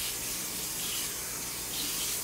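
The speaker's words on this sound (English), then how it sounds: "So I'm going to turn the water back on." Tap water runs steadily while lotion is being made, a dense broadband hiss that holds constant and close for the whole stretch with no talk over it.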